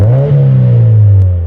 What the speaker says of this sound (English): and let's rev it out.